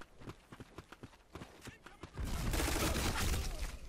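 Gunfire in the online shooter Black Squad, with an MP7 in play: a run of sharp, evenly spaced shots followed by a sudden burst of dense, roaring noise that holds to the end.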